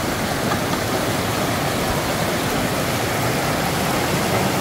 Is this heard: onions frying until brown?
no